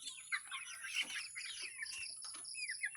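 Organic chickens, an American breed, make faint chirpy clucks and soft calls nearby in a quiet setting, several short notes scattered over a few seconds.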